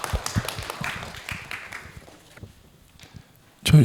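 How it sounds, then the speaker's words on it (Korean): Audience applause at a public forum for an Incheon city art museum project: a dense burst of clapping that thins and fades within about two seconds, leaving a quiet room before a sudden loud noise at the end. "박수 부탁드립니다."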